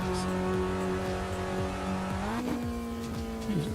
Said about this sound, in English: Is there enough car engine noise?